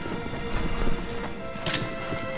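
Hooves of the horse Agro drum faintly at a gallop in the video game Shadow of the Colossus, a soft, steady clatter blended into game ambience and background noise.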